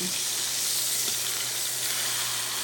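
A pan-seared steak, just flipped, sizzles steadily and loudly in a hot pan, a continuous close hiss with one faint knock and no voices.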